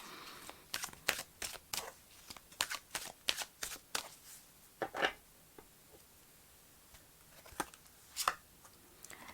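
Romance Angel oracle cards being shuffled by hand, a quick run of crisp riffling flutters and taps in an uneven rhythm with short pauses, close and fairly quiet.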